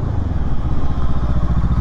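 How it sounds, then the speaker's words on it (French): Brixton Crossfire 500 motorcycle braking hard with ABS, its engine giving a loud, close, rapid pulsing rumble with a rattling clatter throughout the short burst. "Eh ben ça pile sans problème avec le système ABS."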